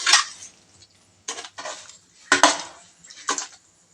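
Fish pieces are tossed with salt and chili powder in a metal pot for a village-style fish curry with mango. Four or five separate scraping, clinking stirs of a utensil against the pot come close and crisp, with short quiet gaps between them.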